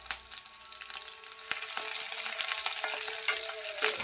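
Green chilies and curry leaves fry in hot oil, giving a steady close sizzle with crackles and occasional stirring noises, no talking.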